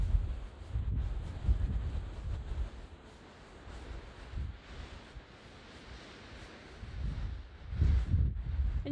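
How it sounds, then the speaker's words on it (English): Wind rushes through the tree canopy of a wooded area, a soft broad whoosh that swells and fades in gusts with low rumbling buffets, fairly faint and steady with no voices. "And you can hear the wind bristling through the canopy to great effect."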